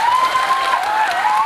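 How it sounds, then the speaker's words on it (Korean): A crowd claps steadily at a film talk event at the Bucheon International Fantastic Film Festival, the applause a smooth, even wash with a sustained whistle-like tone running over it throughout. "박수 부탁드립니다"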